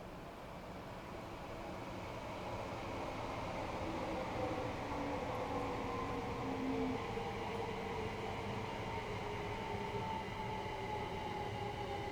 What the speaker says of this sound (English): I see a train.